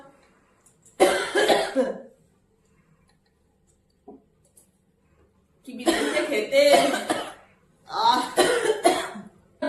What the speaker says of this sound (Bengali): নিজে এত কাশছো, নিজে একটু খেলে না কেন?